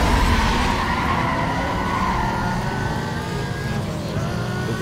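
A racing car engine drones loudly and steadily, with tire squeal, during a race against an Audi A3 in the video game Need for Speed Most Wanted. The engine note shifts gradually through the run.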